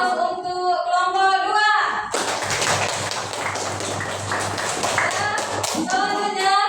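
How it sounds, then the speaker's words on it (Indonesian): A classroom breaks into applause for a student group, many hands clapping fast and close together for about four seconds between stretches of a voice. "Beri aplaus untuk kelompok"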